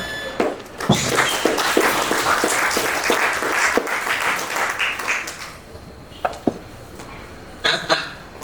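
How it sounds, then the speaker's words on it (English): An audience at a merchants' meetup applauds someone speaker, a dense, loud burst of many hands that fades after several seconds, followed by a few scattered late claps. "Let's give her a wonderful cloud of applause"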